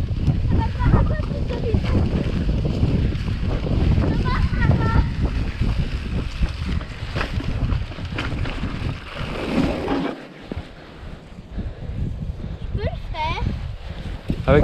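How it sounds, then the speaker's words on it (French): Gusty wind buffeting the microphone in low rumbling bursts on an outdoor mountain bike singletrack, with children's voices chatting and calling over it. "Et il y a du vent."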